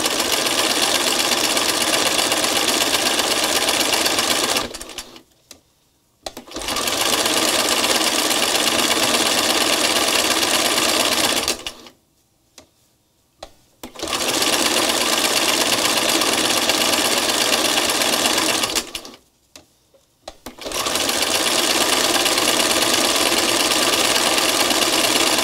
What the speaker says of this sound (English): I'm kind of thinking in terms of going over the stitching I just did